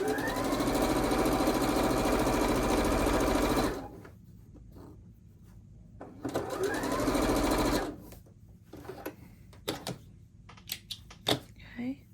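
A sewing machine stitching the last seam of a quilt block runs in a loud rapid mechanical chatter for about four seconds, pauses amid quiet handling noises, then runs again in a shorter burst followed by scattered clicks.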